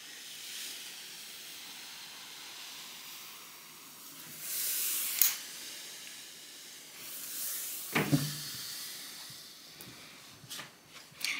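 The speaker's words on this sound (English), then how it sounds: "by steaming and pressing it." Steam iron pressing double-faced wool coat fabric through a damp cloth, quiet background hiss with two louder steam bursts midway and a few soft clunks of the iron near the end.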